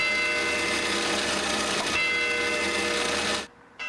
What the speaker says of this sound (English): the bell that you hear ringing for the clock tower